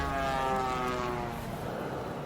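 A man imitates an airplane with his voice during a Turkish street food meal in Istanbul, a buzzing droning hum that holds steady then fades.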